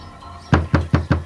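Four firm knocks on a door in an even, steady rhythm, close and loud against a quiet background.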